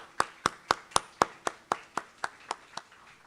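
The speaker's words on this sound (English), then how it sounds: "so let's give a big round of applause to them." About eleven sharp, evenly spaced hand claps ring out at a board of education meeting for Skokie School District 73.5, each crisp and distinct with brief silence between, fading slightly toward the end.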